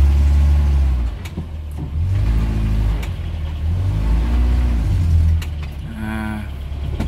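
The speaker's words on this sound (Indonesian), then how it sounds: "ini mobil udah jalan lagi" A car's engine drones and rises in pitch as it pulls away again during stop-and-go driving practice, a loud, close, cyclic hum that swells and eases several times.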